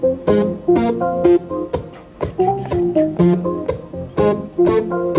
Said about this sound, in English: What I'll do now is record Mark on that keyboard